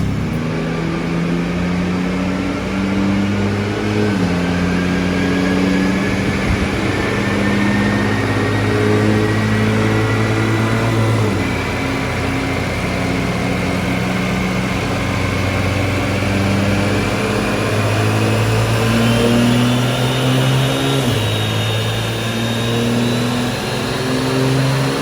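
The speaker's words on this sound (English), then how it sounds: "Right now, we're already warming up the engine." A BMW 340i with a B58 engine warms up, a steady mid-pitched engine drone with several rising revs and falling returns, close and loud, no talking.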